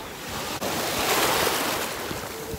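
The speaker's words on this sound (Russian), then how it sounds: "на берегу и нас бьют волны. Это круто." Sea waves break against the shore on a warm beach, a close, continuous surf roar that swells and recedes, with some wind rumble on the microphone.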